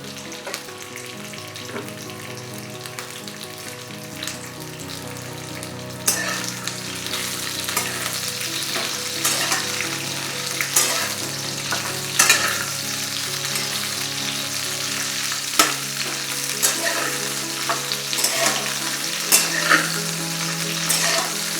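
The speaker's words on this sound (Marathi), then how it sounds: "तेल चांगले गरम करून त्यामध्ये कापलेली भेंडी टाकून घेऊ." Cut okra frying in two spoons of hot oil in a kadhai for dahi bhindi, a loud continuous crackling sizzle with intermittent stirring knocks and scrapes, nobody talking.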